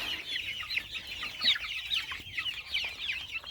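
Chicks and chickens cluck and chirp continuously, a busy overlapping chatter of several birds close by with no talking.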